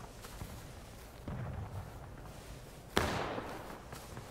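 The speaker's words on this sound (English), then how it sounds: "Something's shooting this way." Gunfire in the War of Rights video game, shot toward the player, sounds as a few muffled distant reports, with one sharp, louder crack near the end over a steady outdoor rumble.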